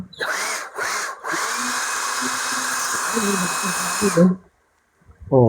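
A Ryobi cordless power tool, which can also work as a vacuum, whirring steadily at close range for about four seconds, briefly stopping and restarting early on, then cutting off before a short clunk.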